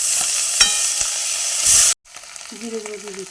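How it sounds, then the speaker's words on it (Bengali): Onion and ginger paste sizzles loudly in hot oil with a bright crackling hiss and a few stirring knocks, then cuts off abruptly into quieter background, where a faint voice-like tone follows. "পেঁয়াজ আদা বাটা দিয়ে দিচ্ছি,"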